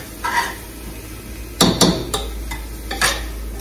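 Ground chilli, turmeric and coriander powder stirred into beef in a pan for a Kerala-style beef cashew roast, giving a soft background sizzle and a few sharp spoon-on-pan scrapes and knocks, close and with no talking.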